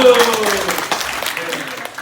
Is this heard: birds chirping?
no